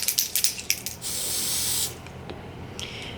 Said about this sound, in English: I take my Sephora product and spray like a good amount